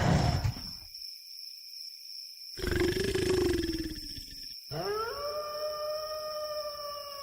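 Wolves of a pack howl in long rising and sustained wails, one drawn-out howl at the start, another low one mid-way, then several overlapping voices near the end, fairly close with a faint high background tone.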